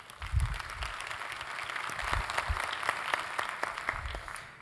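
An audience at a cities summit applauds in a broad, sustained wash of clapping that stays fairly even throughout, with some low thumps mixed in.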